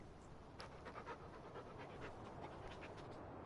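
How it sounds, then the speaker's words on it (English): A dog in Farming Simulator 19 pants in quick, rhythmic breaths, faint and steady throughout with no other sounds. "You can feed your dog and you can actually play with the dog."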